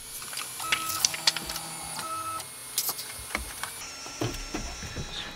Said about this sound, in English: The control panel has an assisted self-level option, which moves the nozzle to predetermined zones.